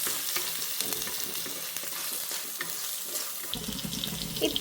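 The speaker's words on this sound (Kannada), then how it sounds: "ನೀರುಳ್ಳಿ ಪಾಡ್ದೆ ಮುಲ್ಪಂದು ಎಡ್ಡೆ ಫ್ರೈ ಆವಡಿತ್ತೆ" Chopped onions frying in a pan for a village-style chicken sukka masala, a soft continuous sizzle with occasional stirring scrapes and clinks, close and steady with no talk.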